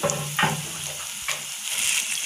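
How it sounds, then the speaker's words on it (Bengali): Water poured into a pan holding minced chicken during egg kebab preparation, a short close splash and gush of liquid followed by a soft wet trickle, with no talk. "আমরা পরিমাণ মতো একটু পানি দিয়ে নিয়েছি"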